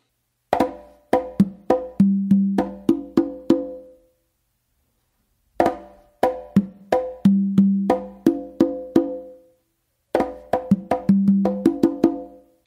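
Conga drums play a repeating bomba rhythm of sharp slaps and open tones, three phrases separated by short pauses, close and clear with no talking.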